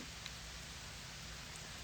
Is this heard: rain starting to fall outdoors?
yes